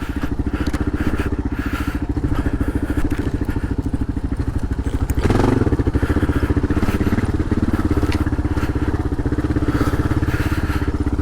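A Kawasaki KLR650 dual-sport motorcycle rides over bumpy, narrow off-road ground, its single-cylinder engine thumping steadily up close, with a jolt of suspension thuds and clatter midway and a brief surge in loudness.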